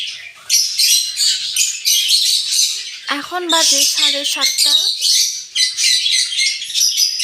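Lovebirds in an aviary at morning, before feeding, fill the scene with dense, continuous chirps and shrill squawks, loud and close; someone speaks briefly over the flock midway.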